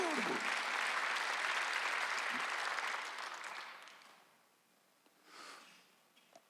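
Church congregation applauding during a Sunday worship service, a broad wash of clapping that fades out after about three seconds, followed by a brief faint rustle near the end.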